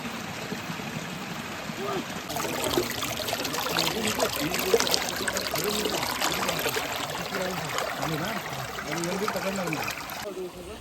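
A year-round stream at a fishing spot, with steady rushing and trickling water close by throughout and faint voices in the background.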